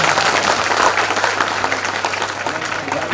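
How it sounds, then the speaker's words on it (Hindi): Loud, dense applause from an audience at a Grandparents Day celebration, a steady wash of many hands clapping together throughout, with some crowd noise mixed in. "आप सभी से एक बार जोरदार ताली बजा"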